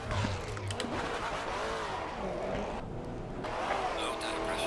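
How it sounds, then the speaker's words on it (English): A race car engine roars in the Assetto Corsa Competizione VR racing game at Monza, loud and continuous, with a brief change in tone partway through and tire noise underneath. "The engine just sounded for like a second completely different."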